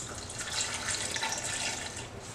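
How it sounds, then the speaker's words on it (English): Water poured from a cup into a pressure cooker pot around the side of a beef roast being prepared for shredded beef tacos, a steady close splashing trickle lasting a couple of seconds with no talk. "So we're going to take a cup of water, put it around the side."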